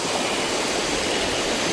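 A river rushes past a forest campsite at Citalahab in the dense Halimun Salak forest, giving a close, steady, unbroken wash of flowing water with no voices.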